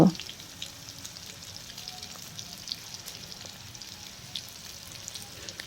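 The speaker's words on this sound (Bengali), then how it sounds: "যতক্ষণ না আলুটা ভালোভাবে ভাজা হচ্ছে ততক্ষণ আমি খুন্তিতে করে এটা নাড়তে থাকব।" Skin-on potato pieces frying in plenty of oil, stirred with a spatula, give a steady, moderate sizzle throughout, with small scraping ticks from the stirring.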